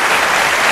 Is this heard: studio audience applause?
yes